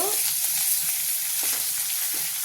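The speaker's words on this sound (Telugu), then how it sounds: "ఇవి కూడా కొంచెం ఫ్రై అవ్వాలి ఎండుమిరపకాయలు" Dried red chillies frying in oil over medium flame, a loud continuous hiss with faint stirring taps, close and steady throughout with no talk.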